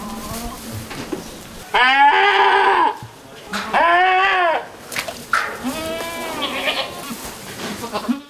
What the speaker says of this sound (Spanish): Inmaculada y Anastasio crían en Torrecera un rebaño de 400 cabras con 230 madres